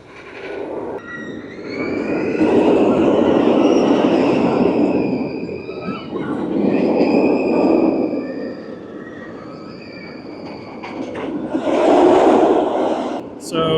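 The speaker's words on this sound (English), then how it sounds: "here's our front-facing train on freeze going up the spike" A front-facing roller coaster train on the Freeze ride climbs the spike, its roar swelling and fading in three waves with whining, squealing tones over a rumbling base.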